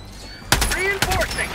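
Gunfire in the video game Helldivers 2 aimed at shiny orange eggs, a sudden loud burst of rapid shots with a few sharp follow-up blasts over game effects, all within about a second.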